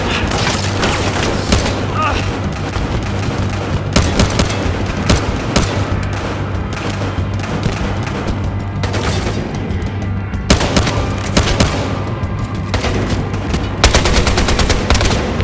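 In the video game Battlefield Hardline, a grenade booms amid rattling automatic gunfire, a dense, loud, continuous barrage of shots and blasts with voices shouting over the combat.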